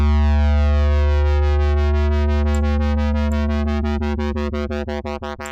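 A KORG Miami monophonic synth plays a loud sustained buzzy tone wobbled by a sine wave LFO, the pulsing starting smooth and speeding into a rapid throbbing chop toward the end, with no voices.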